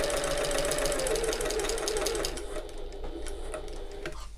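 Close sewing machine stitches along the sides of a bag after pivoting at a corner, a continuous whirring run that softens and slows into lighter ticking near the end.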